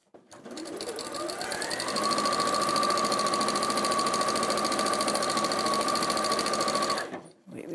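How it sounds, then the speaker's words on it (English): A sewing machine stitches steadily around fabric, its needle running in a fast, even mechanical rhythm close up for several seconds before stopping abruptly. "and just sew all the way around"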